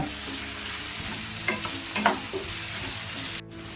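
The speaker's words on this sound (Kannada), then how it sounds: "ಕಟ್ ಮಾಡಿ ಇಟ್ಕೊಂಡಿರೋ ಕ್ಯಾಪ್ಸಿಕಮ್ಮು ಎಲ್ಲ ಒಗ್ಗರಣೆಲ್ಲ ಬಾಡ್ಸ್ಕೊಂಡ್ಬಿಡೋಣ" Brinjal and capsicum pieces sauté in hot oil tempering in a pan, with a steady sizzle broken by a few scraping stirs of a spoon, close and without any talking.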